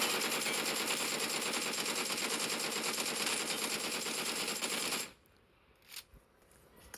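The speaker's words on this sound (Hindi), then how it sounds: "तो पहले इस पे क्राउच करके गोली चलाओ" Sustained rapid automatic gunfire in the game BGMI, fired while crouching, rattles loudly for about five seconds, then cuts off to near silence with a couple of faint clicks.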